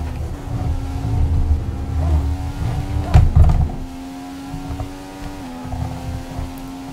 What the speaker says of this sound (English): You can see the engine's overheating all fucking ready. This shitty Honda engine.